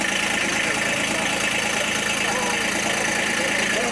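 Tractor engine idling at an agricultural fair in Denizli, Turkey: a steady, dense mechanical rumble with a constant chugging texture, loud and close throughout without a break.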